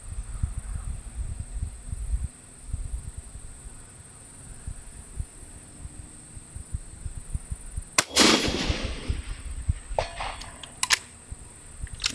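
Two distant gunshots from a Thompson Contender rifle fired at a long-range target, the sharp first crack near the middle followed by a fainter second report, with insects and faint ambient clicks throughout.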